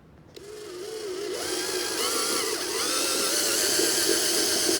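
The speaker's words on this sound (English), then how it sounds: "I'm going to put it in the drill and sand down the wheel with some" An electric drill spinning a small toy wheel against 240-grit sandpaper gives a close, loud, steady whine that rises in pitch as it gets up to speed, then cuts off abruptly.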